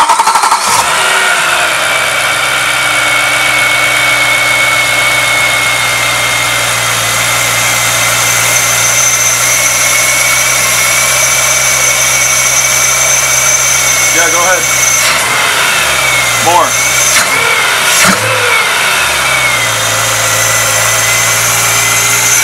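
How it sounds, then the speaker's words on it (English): A BMW E9X M3 engine, worked on during a throttle actuator replacement, cranks briefly then settles into a loud, steady close idle, with short throttle blips toward the end. "I'm going to turn it over."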